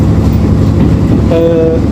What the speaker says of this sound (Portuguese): estamos então a sair de Oliveira de Azeméis, já dentro da automotora 9635